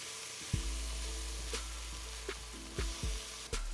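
Philly cheesesteak filling sizzles loudly in a hot pan, with several sharp metal clanks and scrapes of a spatula mixing it, close up and steady, with no talking.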